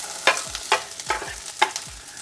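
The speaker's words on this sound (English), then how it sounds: "The sesame oil is heated up, so it should sizzle when these hit the pan." Asparagus spears stirred in a pan of hot sesame oil, giving a soft, steady sizzle with several scraping stir strokes at a regular pace, close and fairly quiet.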